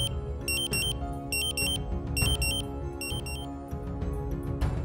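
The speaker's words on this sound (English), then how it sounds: "After a few seconds, the Dräger pack will activate the alarm." Dräger Pac 6000-series portable gas detector sounding its alarm during a bump test: rapid repeating bursts of shrill electronic beeps in a steady pulsing pattern, loud and close, with no talking.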